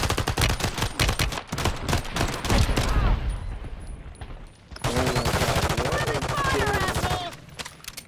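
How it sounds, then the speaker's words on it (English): Rapid gunfire in a video game pumping extra rounds into a dead body, loud close bursts of dense shots, a short lull, then another long sustained volley with voices talking over it. "That's some extra bullets on the dead body."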